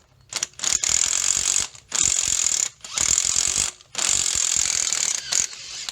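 Slotted bolt being run in and out of a threaded hole to clear the threads during a Daihatsu Fourtrak engine swap, giving repeated bursts of clicking ratchet-like mechanical noise separated by short pauses.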